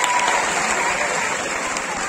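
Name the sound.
audience applause at ceremony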